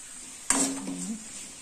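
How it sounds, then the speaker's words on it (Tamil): Tomato, onion, garlic and vadagam sautéing in a pan for sardine fish curry, a sudden clatter of pan or spoon followed by a short, soft sizzle and stirring. "நல்லா வதக்கிக்கோங்க."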